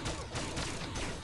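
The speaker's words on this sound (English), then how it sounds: "Let's try fire a couple of shots through here as well." Rapid gunfire from a weapon in the shooter game Pixel Gun 3D, a dense continuous burst of shots filling the moment with no speech over it.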